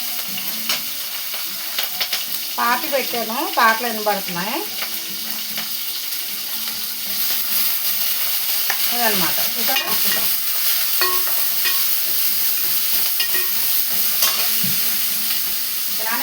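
Green chillies and onions hit hot oil in a tempering with cumin and dried red chillies, giving a steady close sizzle and frying hiss that runs the whole way, with occasional stirring and someone speaking briefly over it.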